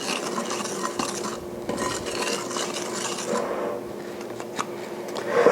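Gluten-free, dairy-free bread dough is mixed in a bowl, making a continuous scraping, rasping stir with light clinks of utensil against the bowl, close and steady.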